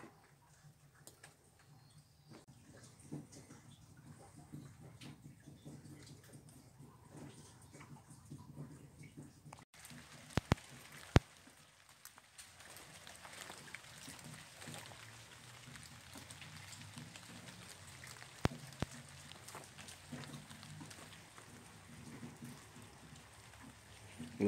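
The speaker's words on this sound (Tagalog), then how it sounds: "Lumalakas na naman po ang ulan" Heavy rain falls steadily over an outdoor compost pit site, a soft continuous patter with a few sharp clicks and taps scattered through, fairly quiet and without voices.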